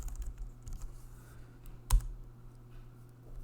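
Light clicking keystrokes on a computer keyboard while entering a command, quiet and close, with one sharper key tap near the middle over a low background hum.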